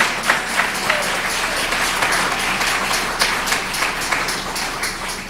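An audience at a community support event breaks into dense, sustained applause for the organizers, a steady wash of many hands clapping without talk over it.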